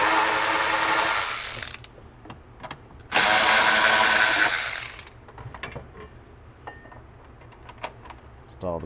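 A power tool runs in two loud bursts of a couple of seconds each, removing pre-installed bolts from a Chevrolet C10 truck during a Vintage Air installation. Clicks and clunks of handling follow, with no speech.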